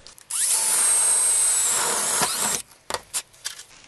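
Power drill boring a bolt hole in wood for a miter saw station stop block: a loud, close, sustained whine lasting a couple of seconds, then stopping, followed by a few light knocks and handling sounds.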